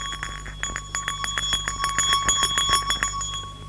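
A small bell rings in quick repeated strikes, each ringing tone overlapping the next, bright and close with a steady hum underneath.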